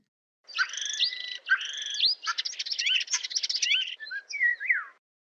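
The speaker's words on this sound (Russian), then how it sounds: "Скворец." A starling sings a varied song of whistles, rapid rattling clicks and rising and falling chirps, close and clear and alone for about five seconds.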